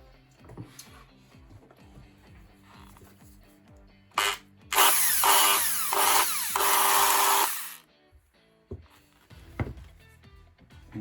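A repaired electric drill is switched on for a test with no load, running loud and steady for about three seconds after a brief start, with faint handling clicks before and after.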